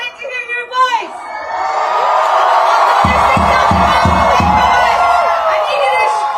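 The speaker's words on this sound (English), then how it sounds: "I need you to cheer for them." Crowd at a Palestine solidarity rally in St. Paul, Minnesota, cheering and whooping loudly and continuously after a brief spoken lead-in, with rhythmic clapping or drumming joining midway.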